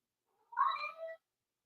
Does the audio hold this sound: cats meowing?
yes